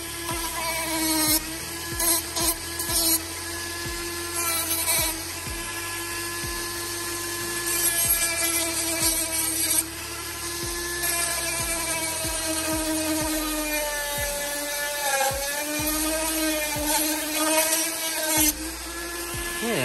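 A high-pitched rotary tool whines steadily while smoothing rough hook spots on a Kraken 580 model, its pitch dipping and rising as it bites into the material, with brief stops and restarts throughout.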